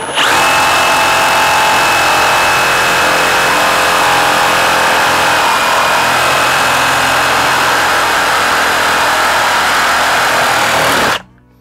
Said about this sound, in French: On va venir quand même s'appuyer sur la planche de bois avec la scie sabre